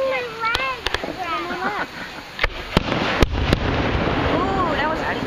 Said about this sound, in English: Ooh, that was pretty. Fireworks, baby.